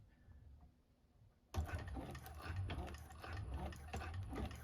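A 1341 cylinder arm sewing machine stitching clear vinyl for a bag starts after a quiet pause, then runs steadily and close with a fast mechanical patter.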